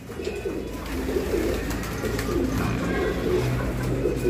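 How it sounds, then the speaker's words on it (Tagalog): Belgian breeding pigeons coo close by, with repeated low throaty coos layered over a soft, continuous background murmur of the loft. "Ito Belgium bird din to, baka ito yung Bandi Merwe"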